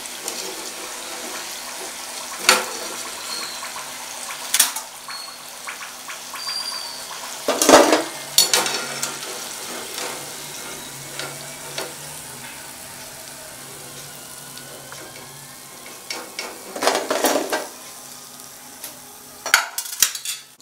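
Gorumeelu sweets made from dough fry in hot oil with a soft, steady sizzle. Sharp clanks and scrapes of a utensil against the pan break through it every few seconds.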